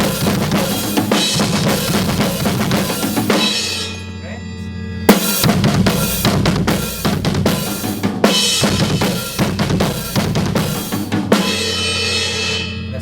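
Fast, dense blast beat drumming from a song pounds on with distorted full-band metal, loud and relentless, breaking off briefly in short gaps before slamming back in.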